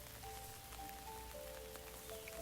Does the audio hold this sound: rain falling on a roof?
yes